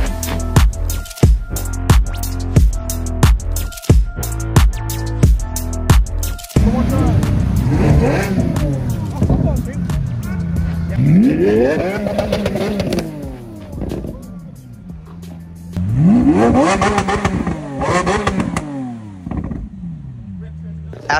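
A Lamborghini Revuelto at a Lamborghini meet gives a string of sharp, loud throttle blips, then long rising and falling revs that roar up close and repeat over the whole stretch.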